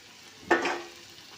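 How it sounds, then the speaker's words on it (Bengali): Spices frying with beef tripe in a pan, heard as a single short burst of sizzle and scraping from a stir that tails off quickly into quiet background. "মশলাটা একদম ভালো করে কষাবো তেল তেল উঠে যাওয়া পর্যন্ত"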